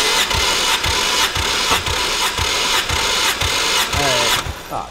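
A Toyota 1JZ engine in a 240 cranking on the starter for a compression test, a loud, steady rhythmic whir with regular pulses about twice a second, stopping near the end.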